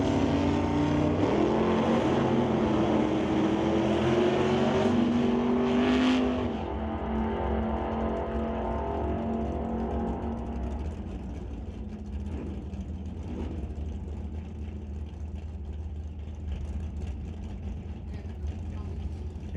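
Drag race cars, including a '67 Camaro, launch and roar down the strip at a bracket race, a loud engine drone with a rising rev early on that fades into steadier distant running, with an announcer talking over it.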